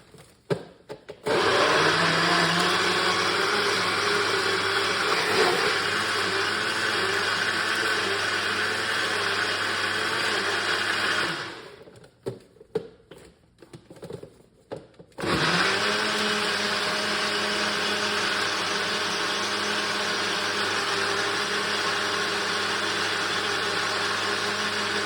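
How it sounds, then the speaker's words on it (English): A blender making a green smoothie whirs loudly and steadily, stops briefly with a few clunks, then roars back on at full speed, close by. "Now we're gonna make some noise. We're just gonna blend it"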